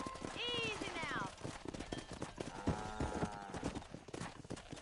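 Horse hooves clip-clop in a steady rhythm in the game Red Dead Redemption, with a horse whinnying early on, mixed with voices and background game sounds.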